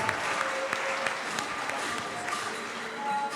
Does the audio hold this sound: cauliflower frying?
no